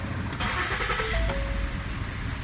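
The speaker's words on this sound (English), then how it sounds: "I'm gonna go ahead and start the vehicle up." A Ford Edge with a faulty A/C condenser fan starts up with a short cranking catch, then the engine settles into a steady, close idle rumble.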